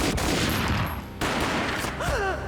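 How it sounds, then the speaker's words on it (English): A gunshot effect in a dramatic ghostly scene: a loud, dense burst of firing fills the first second, then another broadband blast, with a whining, warbling tone rising near the end. "A gunshot boomed and she fell down in slow motion."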